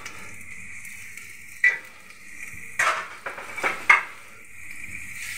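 Onions frying in a pan with garam masala for masoor dal bhuna khichuri: a steady low sizzle broken by sharp clinks and scrapes of a stirring utensil against the pan.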